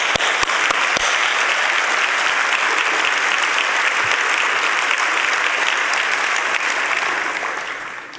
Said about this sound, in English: If the people from Safeway could stand and we could give you a hand.